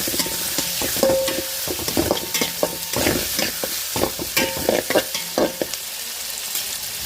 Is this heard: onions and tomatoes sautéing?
yes